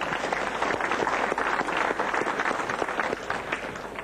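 A crowd claps at a 1996 Grenda's Bus Service reunion, a dense and sustained round of applause from many people, fairly loud and steady throughout.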